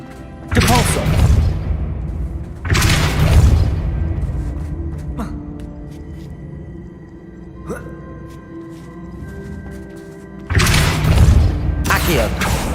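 Depulso force spells cast in combat in the Hogwarts Legacy video game: several loud whooshing blasts with thuds, spaced a few seconds apart, plus fainter clicks and impacts in between.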